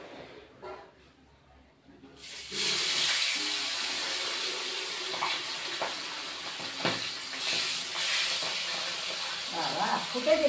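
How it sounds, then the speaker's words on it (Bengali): Pabda fish frying in hot oil in a wok, a quiet start giving way to a steady loud sizzle and hiss from about two seconds on, with small pops and crackles throughout. "মাছ কড়াইতে দিয়ে দিই।"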